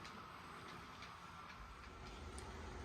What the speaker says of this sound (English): And also trains running